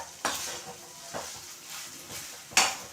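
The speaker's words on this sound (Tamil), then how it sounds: "அதை போட்டுட்டு இது மாதிரி நல்லா கிளறி விட்டாச்சு" Mint rice and mint chutney are stirred in a pan with a metal spoon, making three sharp scraping clacks against the pan over a soft, low sizzle.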